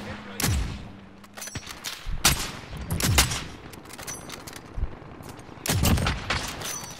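Enemy gunfire in the Call of Duty Modern Warfare video game: bursts of automatic rifle fire crack out in clustered volleys, some close and loud, others more distant, with brief lulls between them.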